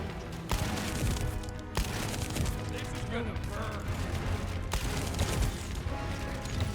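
Gunfire in the video game The First Descendant, with sharp shots and bursts of firing plus mechanical game effects mixed under a player's ongoing speech.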